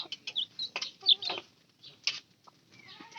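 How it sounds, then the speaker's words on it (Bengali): Laying hens cluck in short, scattered bursts close by, soft and irregular against a quiet background. "এই যে ডিম পাড়া মুরগিও আছে"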